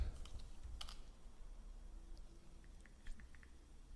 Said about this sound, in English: Oh, you're typing.